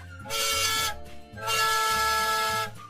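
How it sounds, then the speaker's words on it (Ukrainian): Two bright horn toots sound in sequence, each a sustained buzzy tone lasting about a second, the second one slightly longer. "Звучить гудок, наш поїзд вирушає в дорогу."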